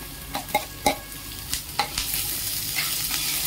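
Onion, green chili and grated coconut frying in a pan while being stirred, with a soft steady sizzle broken by several sharp scraping clicks of the spoon against the pan, close and without talk.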